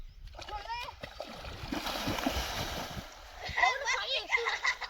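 Several swimmers jump into water and splash, with bursts of splashing between children's and adults' voices talking and calling out nearby, fairly quiet overall.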